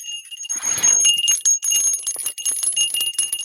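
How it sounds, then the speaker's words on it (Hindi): A small bell rings continuously during a Hindu worship ritual, with bright, high metallic tones, shaken in a steady jangling rhythm, close and fairly loud, with no talking. "अब जो है बजाइए घंटी तो"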